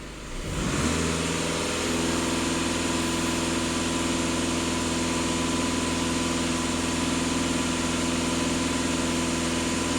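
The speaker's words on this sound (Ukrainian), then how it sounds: "Даю газ в пол на 2500 обертів" A VW Passat 2.0 TDI diesel engine, whose particulate filter is clogging with soot, swells quickly from idle to a loud, steady held drone at about 2500 rpm that stays constant up close.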